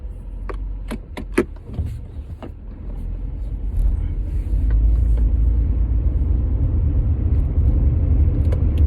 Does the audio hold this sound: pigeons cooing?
no